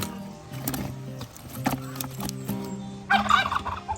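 A turkey gobbles in several short bursts, close by on a farm with ducks and chickens, with a louder warbling gobble near the end among other farmyard sounds.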